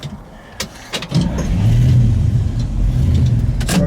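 A 1967 Chevrolet Camaro RS SS with a 350 engine and four-speed manual is being driven. A few clicks come first, then a steady, loud engine rumble swells and holds with a low mechanical drone.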